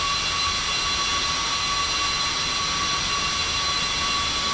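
Airplane jet engine noise in X-Plane 11 flight simulator, a constant loud whine with a steady high tone over broad rushing noise, unchanging throughout and without talk.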